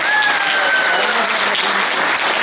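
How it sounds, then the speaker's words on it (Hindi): Loud, dense audience applause fills a convention hall, steady and sustained throughout with no pauses, a faint whistle or tone rising briefly near the start. "एक बार जोरदार तालियां होनी चाहिए।"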